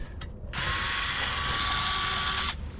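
A power driver whirs steadily for about two seconds as it unscrews a 10mm bolt during a rear car subwoofer replacement, close up and alone.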